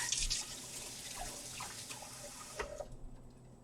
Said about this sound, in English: I'm going to rinse the tongs before grabbing that yarn.